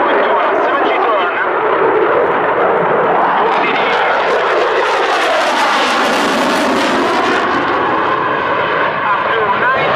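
An Italian Air Force Eurofighter Typhoon roars through an aerobatic display, its jet engines loud and continuous with a swelling, sweeping tone as it passes. A commentator's voice runs underneath.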